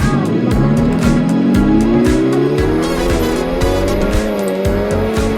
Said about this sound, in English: Now we're gonna rev the engine.